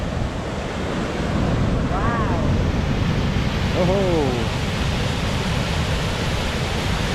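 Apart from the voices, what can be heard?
waterfall of the Sainte-Anne river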